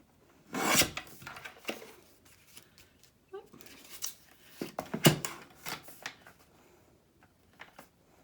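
Scissors snip and rasp through a paper file folder at close range, a few sharp cuts followed by softer scraping and rustling of the paper, with quiet pauses between.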